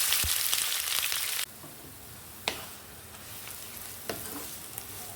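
Onions frying in hot white oil for mutton biryani, a loud dense sizzle for the first moment before dropping to a quieter, steady crackle with occasional sharp pops and clinks of stirring.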